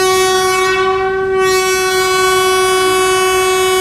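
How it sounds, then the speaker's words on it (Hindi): A passenger train sounds its horn in one long, loud, steady blast over the constant rumble of the running train, heard close by from a coach coupled to the engine. "This was the first time I was travelling on this root with the train."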